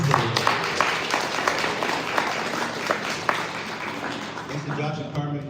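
An audience at a 1 Million Cups Detroit Metro event applauds: a sustained round of clapping from a room of people, moderately loud and steady, fading near the end.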